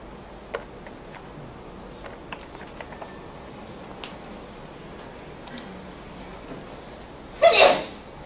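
One short, sharp sneeze near the end, fairly close, in an otherwise quiet room with faint scattered ticks and taps.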